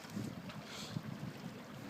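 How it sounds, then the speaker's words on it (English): Wind buffeting a microphone outdoors by water during boat races, a steady rough rumble with small gusts throughout a short stretch. "It's pretty windy."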